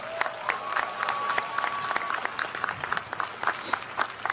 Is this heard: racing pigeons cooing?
no